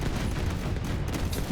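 Video game fireworks burst overhead in a dense, continuous crackling volley of muffled explosions, rapid and steady throughout.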